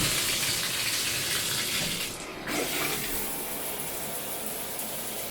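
Water gushes steadily from the faucet of an older-design standard tub and shower in a Days Inn hotel bathroom in Carlsbad, NM, a continuous loud hiss with a brief dip in flow midway.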